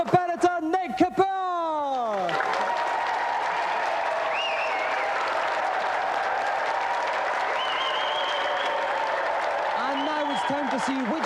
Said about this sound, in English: So let's have another round of applause for tonight's competitor,